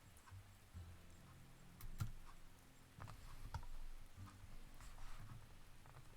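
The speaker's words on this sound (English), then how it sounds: "I think it's the first time we've ever seen it rain in this game." Rain ambience in the game Cinderella Phenomenon: Evermore, a steady soft patter of raindrops with occasional light ticks over a low, droning background hum, even and fairly quiet throughout.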